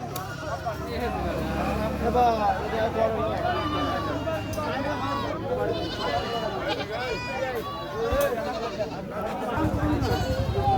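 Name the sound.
goats bleating at a livestock market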